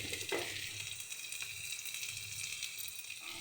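Food frying in a pan with salt and turmeric, a steady close sizzle with crackling spits, loud and continuous, with a brief clatter of stirring near the start.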